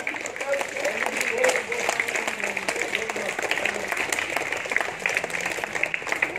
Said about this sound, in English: Give claps.